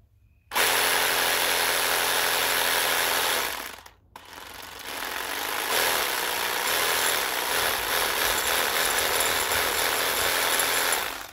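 Einhell TE-AP 18 Li cordless reciprocating saw cutting through wood with a metal blade, a loud harsh buzzing rattle that starts abruptly, stops briefly near four seconds, then resumes and strains on to the end.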